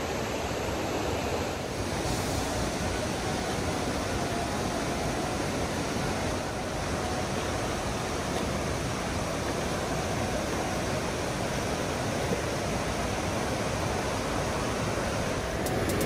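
A clear blue river flowing through the Yasui valley in Japan, a steady, dense rushing wash of water that stays constant and fairly loud throughout with no voices.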